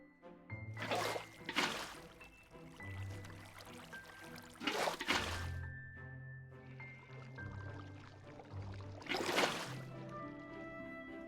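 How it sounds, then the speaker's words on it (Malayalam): Water poured from a bucket in the game Minecraft, building a stone generator in hardcore mode, arrives as three loud splashing bursts a few seconds apart over soft tonal background music. "സോ വാട്ടർ ഒഴിച്ച് കൊടുക്കാം"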